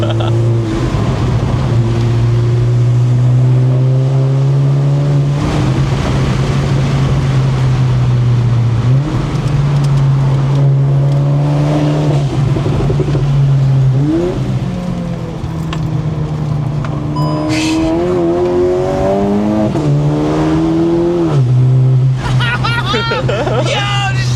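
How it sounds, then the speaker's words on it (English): A turbocharged 450 WHP Volkswagen GLI engine roars steadily under hard acceleration, turbo audibly building, the pitch climbing and shifting between gears, with excited voices talking over it inside the cabin. "The turbo lag too is like you can hear it build up"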